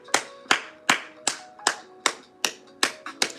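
A single pair of hands claps nine times in a steady, moderately paced rhythm, each clap sharp and close, with nothing else audible.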